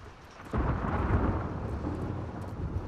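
A thunderstorm in The Last of Us Part II: a sudden thunder crack bursts in after a quiet patch of rain, then rumbles on loudly over steady falling rain, with no voices.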